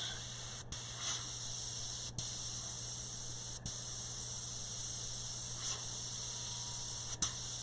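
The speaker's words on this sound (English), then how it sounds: "by spraying very little paint, staying very close to the surface" A steady, quiet hiss of spray paint applied sparingly very close to the surface runs continuously nearby, broken by a few brief pauses and faint clicks.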